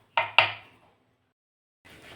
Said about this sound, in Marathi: अशा पद्धतीने टोमॅटो चिरून घ्यायचे